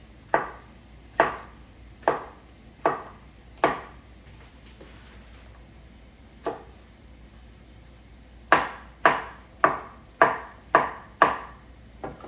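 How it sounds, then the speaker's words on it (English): A knife cuts portobello mushrooms into julienne strips on a cutting board: distinct close knocks, first five evenly spaced, then a lone knock after a pause, then a quick run of six, with no talking. "Portobello in half, and then quarter. And we do like julienne,"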